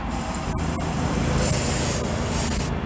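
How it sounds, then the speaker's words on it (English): Steady hiss of spray paint coating a custom Finkgreen Hot Wheels drag bus, continuous and close with brief gaps near the start, swelling slightly in passes. "Make sure it sprays okay."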